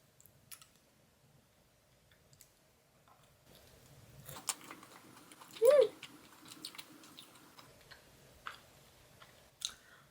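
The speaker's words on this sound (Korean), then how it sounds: "이런 빵은 무조건 이렇게 크게 먹어줘야" Bread is bitten into and chewed in big mouthfuls, soft close crunches and wet chewing clicks, with one brief hummed vocal sound in the middle and quiet gaps between bites.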